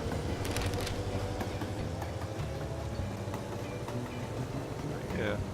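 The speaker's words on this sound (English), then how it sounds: "Yeah, our first oil train." An oil train runs in the Mashinky railway game, a steady low rumbling rail hum with faint clattering, moderately quiet and continuous.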